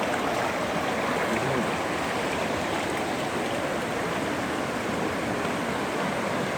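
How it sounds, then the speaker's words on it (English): A river running high and rough after its level has risen, giving a steady, loud broadband rush of turbulent water that fills the whole stretch without a break; no voices are heard. "The river level go up, the water level rises, you know, and it get rough."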